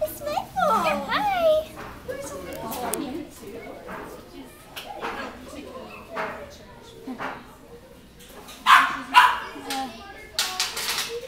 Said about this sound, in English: that's a cute little dog